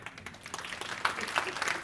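Audience applause at a school technology launch event, a steady wash of clapping from a crowd, moderately distant and continuous for about two seconds.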